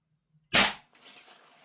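A single sharp, loud gas blowback shot from a Toxicant KP-9 airsoft SMG with Strike Industries PP19 Vityaz styling, followed by a brief hissy, rattling tail, close by.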